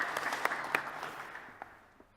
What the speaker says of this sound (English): give a warm applause to our panelists to kick off